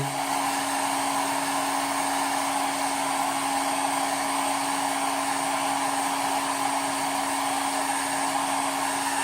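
A heat gun blows a steady, even whoosh with a constant whine over a length of PVC pipe being softened for a slingbow, continuous and close with no talk.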